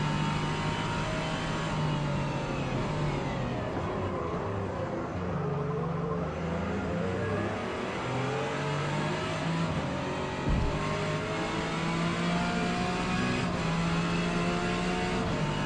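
A Ferrari engine in a racing game revs steadily and loudly, the tone rising and falling through gear changes with a continuous, close drone and no speech.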